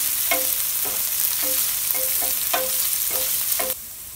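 Onions sauté in a pan for a Tamil shredded chicken fry, a steady close sizzle broken by several light scraping stirs before the frying noise drops lower near the end.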